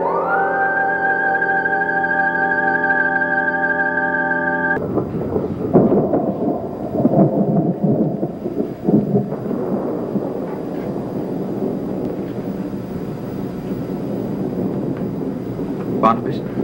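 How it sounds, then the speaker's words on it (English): A thunderstorm's rolling thunder rumbles loud and close after a sustained tonal chord in the opening seconds, then fades into a long low roar with a few sharper cracks near the end. "I heard the storm."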